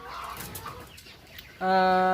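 Laying hens in a semi-free-range floor coop cluck in short, scattered calls, and then one bird breaks into a loud, sustained tonal cackle close by.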